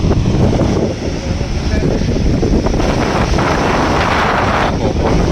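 Steady, loud wind roars and buffets the microphone throughout, a continuous broadband rush with no clear gaps.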